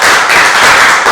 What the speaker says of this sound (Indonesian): Boleh tepuk tangannya dulu teman-teman.